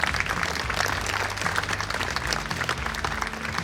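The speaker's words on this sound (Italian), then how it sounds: "un applauso per loro" An audience at a Miss Italia beauty pageant evening in Solesino applauds local mayors, a dense, steady wash of many hands clapping at full volume for the whole stretch.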